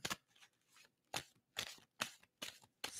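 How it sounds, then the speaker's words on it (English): Playing cards being shuffled, close and crisp, in about six distinct riffling bursts separated by short pauses. "And tell me when to stop shuffling."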